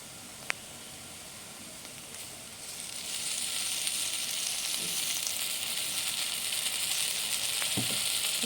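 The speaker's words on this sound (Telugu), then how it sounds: "ఒక 4 స్పూన్లు అల్లం వెల్లుల్లి పేస్ట్ వేసుకుని పచ్చి వాసన పోయే వరకు వేపుకోవాలి" Ginger garlic paste frying in a pan for kheema curry, a close hissing sizzle that swells louder after a few seconds and then holds steady, with a couple of faint clinks.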